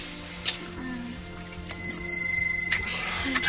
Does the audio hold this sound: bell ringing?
yes